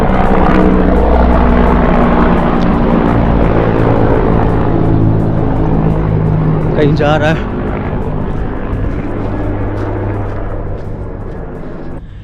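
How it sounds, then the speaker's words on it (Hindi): A helicopter passes over the countryside near Garni, Armenia, giving a steady low rotor drone that thins slightly toward the end, heard under someone talking nearby. "और ये रहा हेलीकॉप्टर"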